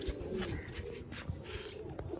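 Pet pigeons coo in a loft with low, murmuring calls that roll on faintly and almost continuously, with a little background noise mixed in.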